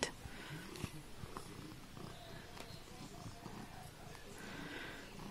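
Close, soft purring from a cat being petted indoors, a steady low rumble throughout with a voice murmuring affectionately over it.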